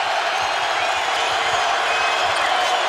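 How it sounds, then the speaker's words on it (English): Basketball crowd at the Sprint Center during a Maryland versus Iowa State final, a dense, steady roar of cheering filling the arena without a break. "you can really hear the crowd here at the Sprint Center"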